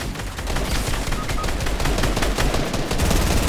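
Pump shotgun blasts from a Fortnite match, a dense run of loud gunfire cracks layered with broader in-game combat noise, continuous and close throughout with no talk.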